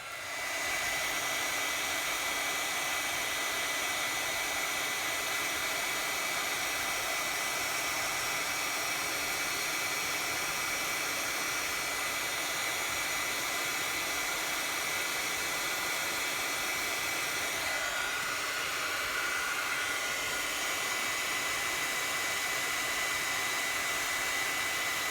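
A heat gun blows hot air onto the back of a handmade card. A loud, steady, close rushing blast runs without a break, with a slight shift in tone near the end and no voices.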